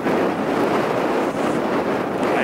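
Strong wind buffeting the microphone during a lockdown bike ride through the New Forest, a steady loud broadband roar filling the whole clip with no talk.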